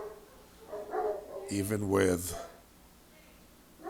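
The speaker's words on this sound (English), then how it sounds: "Sorry about the dogs." Dogs bark indoors in a short burst of a couple of loud yaps, heard alongside a man's speech with some quieter sounds before and after.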